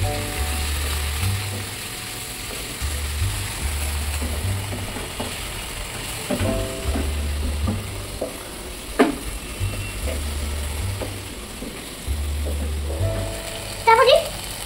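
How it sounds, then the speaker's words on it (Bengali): Potatoes and okra frying in a pan, a continuous sizzle under a repeating mechanical whir and clicking, with a few sharp clatters toward the end. "তারপর আলু এবং ঢেঁড়সটা ভাজা"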